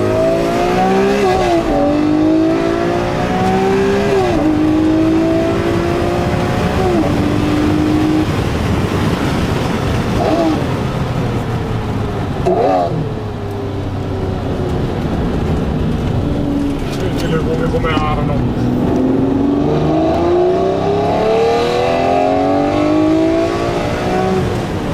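Lamborghini Murciélago LP640 supercar with a manual gearbox, its engine revving loudly and steadily, pitch climbing and dropping through repeated gear changes as it is driven, close and continuous throughout.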